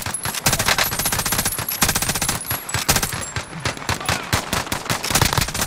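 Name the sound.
machine gun fire in a video game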